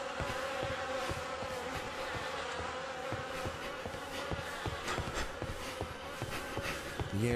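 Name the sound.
buzzing insects in the video game The Fidelio Incident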